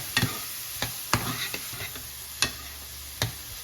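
Onions are stirred in a pan for a creamy pasta, with a low sizzle under sharp scraping knocks of the spoon against the pan coming every half second or so, close and fairly quiet with no voices.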